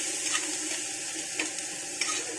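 Onion and green chilli frying in oil while being stirred, giving a steady close sizzle with a few sharper pops and scrapes at intervals.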